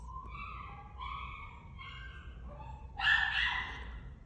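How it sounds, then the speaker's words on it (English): A dog barks nearby in a workshop: a few short, spaced yips, then one louder bark at the end, heard alone in a quiet room. "Sounds like the dog wants to go for a walk."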